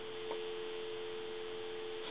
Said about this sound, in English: Should hear dial tone.